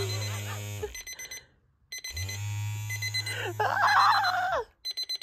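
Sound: vibrating alarm clock ringing

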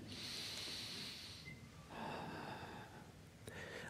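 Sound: a breath

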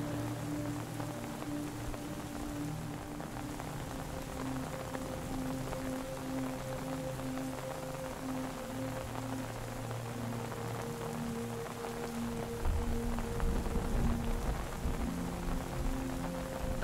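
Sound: rain falling on a tent

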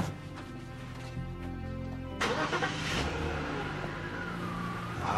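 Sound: car engine being started

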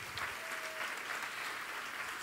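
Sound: audience round of applause for Anna

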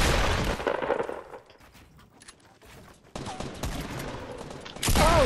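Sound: pump shotgun shots in video game Fortnite

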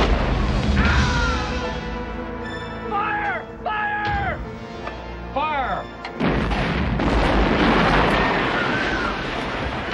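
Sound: incoming artillery shell explosion in a film

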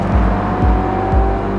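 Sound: SEAT Leon SC engine sound

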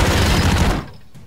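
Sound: machine gun fire in Broforce video game

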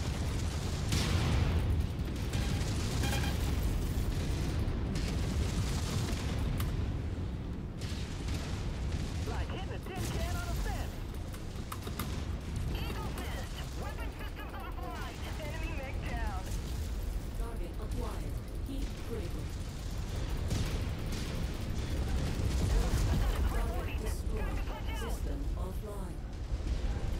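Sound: mech weapons firing in video game MechWarrior 5

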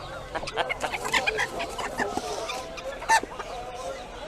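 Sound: chickens clucking at Antalya animal market

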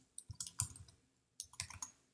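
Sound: computer mouse click

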